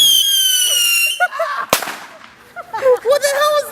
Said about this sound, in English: if the firecracker went in the net and got stuck and turned back around and came at you?